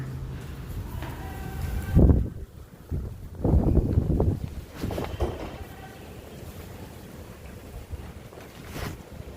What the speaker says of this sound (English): So it's breezy here.